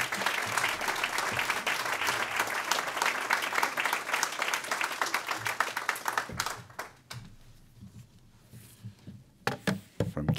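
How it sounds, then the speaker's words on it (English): Audience applause at the 2013 Profile in Courage Award ceremony: a dense, sustained roar of many hands clapping that thins after about six seconds into scattered claps and a few late bursts. "Please join me in a round of applause for our chairman, Al Hunt."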